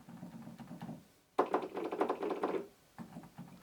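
Keys of a Korg Nautilus synthesizer keybed played without sound output, giving soft muted thumps and clacks in two clustered runs separated by a brief pause, close and fairly quiet.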